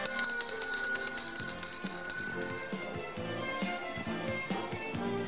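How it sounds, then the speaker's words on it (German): A bell rings out loud and sustained to set baroque stage machinery in motion at Schloss Friedenstein, its bright ringing tones holding for a few seconds before thudding, clattering mechanical knocks take over. "Läuten Sie die Glocke."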